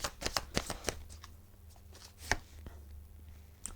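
Tarot cards being shuffled to draw a shadow card: a run of quick, crisp riffling flutters, then scattered soft card taps and slides, close and fairly quiet with no talking.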